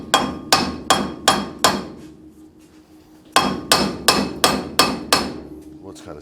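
Hammer striking a stuck bearing on a vehicle part, a run of five loud sharp metallic blows in steady rhythm, a short pause, then six more close blows.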